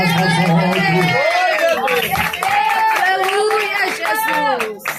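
A church congregation claps hands in rhythm during worship, dense steady clapping mixed with voices singing and calling out, loud and close throughout.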